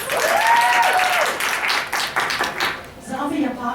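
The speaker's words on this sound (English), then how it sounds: "Give me a round of applause." An audience at an impromptu speech contest claps and applauds for a contestant, a dense, fairly loud burst that fades toward the end while voices talk over it.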